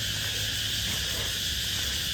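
Loud cicadas at dawn make a dense, steady, buzzing drone that fills the whole clip without a break, with no voices.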